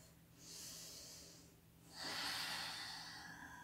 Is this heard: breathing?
yes